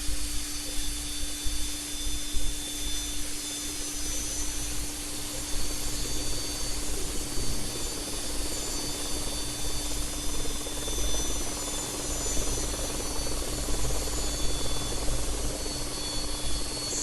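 An AgustaWestland AW109SP helicopter runs through start-up, its engine and turning rotors making a loud, steady whine and roar with a constant hum and hiss, continuous for the whole stretch and free of talk.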